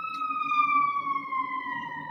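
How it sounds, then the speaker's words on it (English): A single wailing emergency vehicle siren tone on a Chicago city street sweeps slowly downward, held steady and fairly loud over low traffic rumble. "Sorry, sirens are always coming and going."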